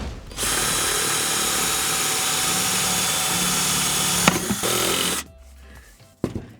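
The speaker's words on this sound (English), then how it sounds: "A tip is to drill a pilot hole before you start using the 1/2-inch drill bit." A power drill with a 1/2-inch bit whines loudly and steadily for about five seconds drilling into a plastic container, briefly catching, then stops, followed by a few small clicks and knocks.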